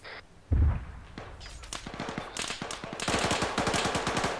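Scattered gunfire in the military video game Arma 3, a sharp nearby shot followed by a steady run of distant rapid cracks and pops that grows denser toward the end.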